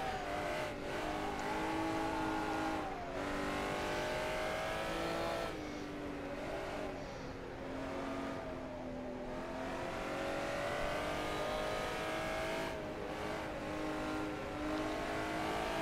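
Simulated Honda NSX-R engine lapping Suzuka in the rFactor racing game, a continuous loud revving drone with rising and falling pitch through gear changes and occasional lifts, steady throughout with no talk.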